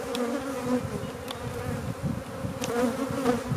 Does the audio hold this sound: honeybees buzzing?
yes